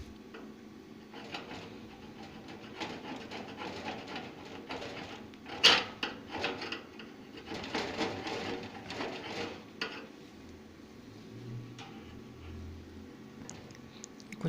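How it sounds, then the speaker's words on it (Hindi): Metal scraper rasping a painted coating off the pipe of an instant gas heater, the pipe a mixed metal rather than pure copper; close, irregular scratchy bursts with short pauses, no talking. "यहाँ से अगर मैं इसका कलर उतारना शुरू करूँ तो ये अभी आइडिया हो जाएगा"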